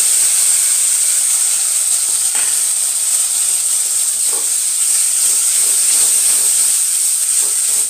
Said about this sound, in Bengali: এবারে আমি এতে টমেটো বাটাটা অ্যাড করে দেবো।